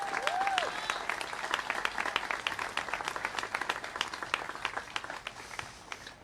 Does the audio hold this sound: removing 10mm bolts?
no